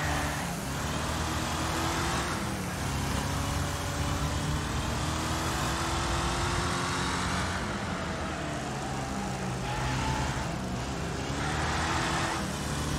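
A limousine races in the demolition derby game Wreckfest, its engine droning steadily and loudly throughout with a constant rough roar and shifting tonal hum, mixed with dense road and crowd noise.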